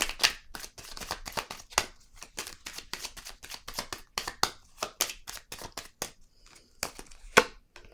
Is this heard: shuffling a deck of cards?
yes